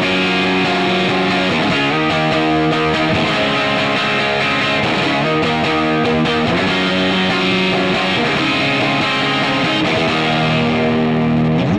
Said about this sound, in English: So I'm going to hit it hard for a second and show you